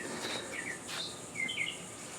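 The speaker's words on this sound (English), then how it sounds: "You get to listen to the birds sing while we open this up." Faint birds chirp and whistle outdoors, a few short calls scattered over steady background hiss.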